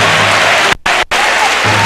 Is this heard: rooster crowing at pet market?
no